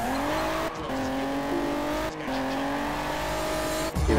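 A car drifts in the Juiced 2 racing video game, its engine droning loudly at steady pitch, with gear shifts interrupting it and tire noise throughout.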